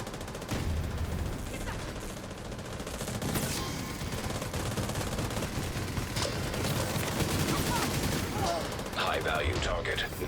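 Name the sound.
hostile artillery turret firing in a video game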